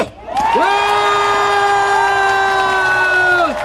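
Crowd at a Korean political election rally cheering, whooping and shouting in unison, loud and sustained for several seconds, with voices rising together and holding a long collective cry.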